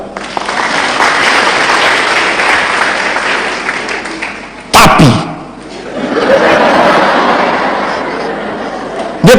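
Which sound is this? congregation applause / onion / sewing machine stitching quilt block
congregation applause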